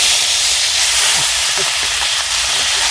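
Chicken organs, cleaned in a village kitchen, hiss and sizzle in hot oil with a steady broadband crackle that stays loud and even throughout, a few faint clinks and a soft voice buried beneath.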